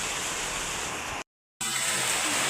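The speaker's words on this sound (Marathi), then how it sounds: "जोरात चालू झालं आहे पाऊस," Heavy monsoon rain pours down steadily in a loud, continuous broadband roar that cuts out briefly and then resumes just as strong.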